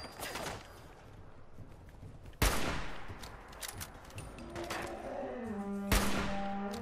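Gunfire in the Fallout 4 video game: two sharp, loud shots at about 2.4 and 6 seconds ring out over busy game ambience, with a rising electronic tone building between them.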